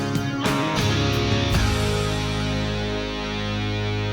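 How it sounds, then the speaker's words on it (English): Moody guitar solo outro, sustained distorted tones with a few sharp attacks early on, then a long ringing decay, played alone. "give me a moody guitar solo outro."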